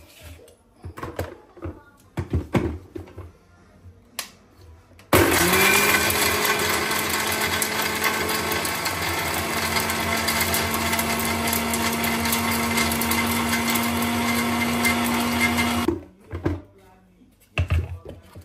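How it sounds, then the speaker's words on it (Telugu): Electric mixer grinder whirring as it grinds coriander leaves, chilli powder and salt: a loud, steady high-pitched motor roar that starts abruptly, holds for about ten seconds and cuts off, with brief clattering and handling noises before and after. "ఫస్ట్ దీన్ని గ్రైండ్ చేసుకున్నాము."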